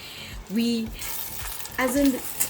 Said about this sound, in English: this is more frying than really boiling with water